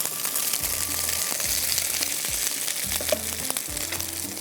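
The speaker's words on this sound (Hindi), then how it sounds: "सॉसेजेस को मैं हल्का सा यहाँ पर फ्राई कर लेती हूँ" Sausages fry in a pan, giving a steady, moderately quiet sizzle with occasional soft clinks and stirring sounds throughout.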